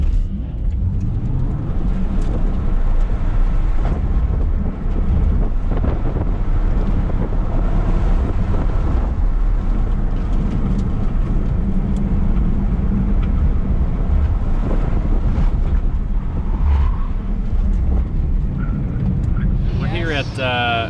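A Tesla Model 3 Performance driven hard around an autocross course, with constant loud wind buffeting and road roar throughout and muffled talk at times.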